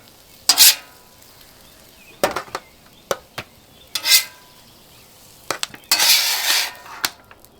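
Eggs cooking on a griddle, with short scraping bursts from a metal spatula and brief sizzles that come in bursts, ending in a longer sizzling scrape near the end. Close up and no one speaks.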